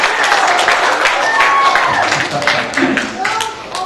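A crowd of spectators breaks into applause after a magician's rope trick, a dense burst of clapping mixed with excited voices and calls, loud and close, gradually thinning toward the end.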